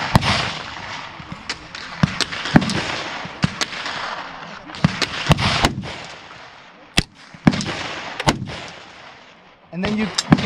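Sharp gunshots ring out at an outdoor shooting range where .308, .22LR, 9mm and .223 rifles and pistols are fired, a dozen or more loud cracks in irregular succession, some close and some farther down the line, with people talking in between.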